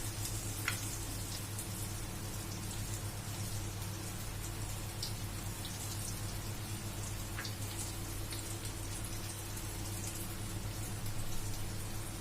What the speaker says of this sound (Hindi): अब इसको सिर्फ हम क्रिस्प करने तक, ये मसालों को क्रिस्प करने तक हमने थोड़े से तेल में डाला है।